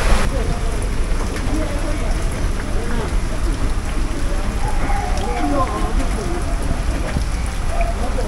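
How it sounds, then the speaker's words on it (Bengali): Heavy rain pours steadily and loudly all around, a dense continuous wash of drops on surfaces with no pause from start to end. "বৃষ্টি হালকা কমার পথে"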